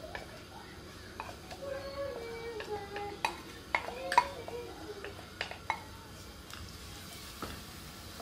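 Onions sizzle softly in hot olive oil in a cooking pot, a low steady hiss with a few light clinks of utensils against the pot.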